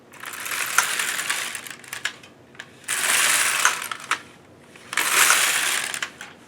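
A Kris Krafter Needle Beetle knitting machine carriage sweeps across three rows, each pass a rasping, clicking mechanical run of a second or two separated by short pauses and small clunks, close and fairly loud, with no talking.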